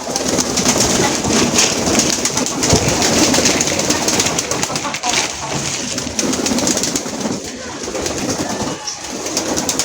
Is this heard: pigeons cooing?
yes